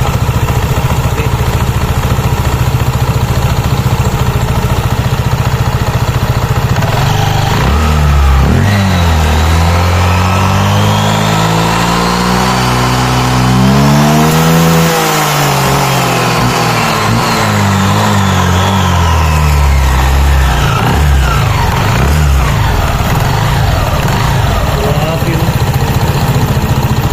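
A Honda PCX 160 scooter with a modified CVT pulley revs loudly, climbing from idle to a high whine and back down, with someone talking over the engine.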